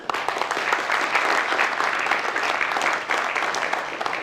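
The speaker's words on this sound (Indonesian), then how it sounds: "aplaus dulu untuk Danang Pradana" Studio audience applause for Danang Pradana on a talk show, a steady, dense wash of clapping from many people that holds loud throughout.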